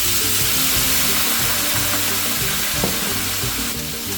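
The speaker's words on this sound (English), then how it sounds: "Then toss around beef chunks for a minute after adding the rice cooking wine." Beef chunks tossed in a hot wok with Cantonese rice cooking wine, a loud dense sizzle running the whole time with a few brief scrapes of the stirring.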